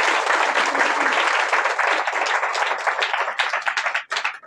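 An audience at a Christian worship gathering claps loudly and steadily, a dense roar of hands that thins into scattered, separate claps toward the end.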